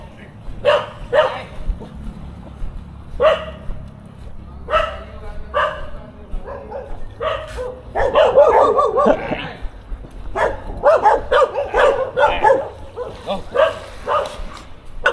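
A dog barks repeatedly at a fishing spot, sharp close barks and yips coming in irregular bursts, growing more frantic midway, while people talk around it.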